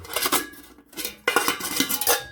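Titanium skillet nested into a Pathfinder titanium bushpot, giving a few close, bright metallic clinks and scrapes in two bursts split by a short pause.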